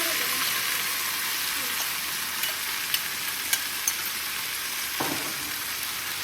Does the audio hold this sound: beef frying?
yes